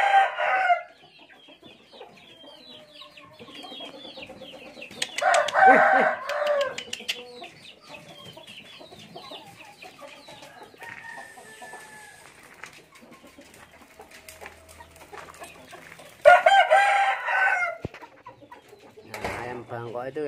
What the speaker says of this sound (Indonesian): Asli ini ayam Bangkok semua.